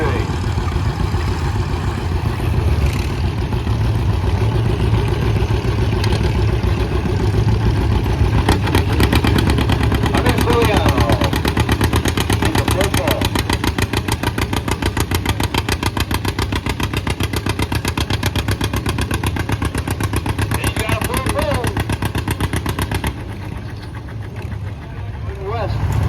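A nicely restored antique John Deere tractor in a 2500–5500 lb pulling class works through a full pull, its loud, heavy chugging thumping steadily for most of the run before dropping off near the end.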